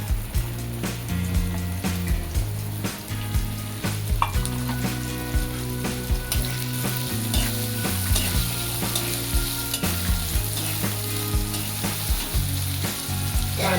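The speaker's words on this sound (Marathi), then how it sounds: "त्या तेलामध्ये कांदा आणि टोमॅटो टाकून घेतो" Onion and tomato dropped into hot oil for a Maharashtrian brinjal dish crackle and sizzle steadily, with frequent scraping and tapping of a spoon against the pan and no voices.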